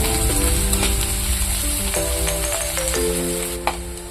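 Sliced onions fry in hot mustard oil in a wok, a continuous loud sizzle with occasional crackles and scrapes close by.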